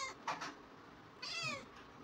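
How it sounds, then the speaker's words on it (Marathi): A pet cat meows twice at close range in a home during play, a short call followed by a longer, clearer meow. "काय कॅट आहे नाही चकुली."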